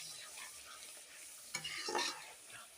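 Masala with ginger garlic paste stirred in a pan, a soft continuous sizzle with scraping stir strokes building louder toward the end, close and quiet with no talk.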